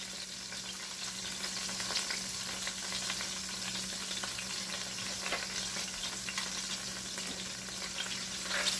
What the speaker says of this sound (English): You want to put 2 tablespoons of butter.